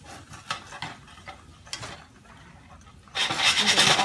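Food in a pan is tossed with a spatula, giving soft scraping and light clattering that turns into a louder, fuller sizzle as it settles back onto the heat.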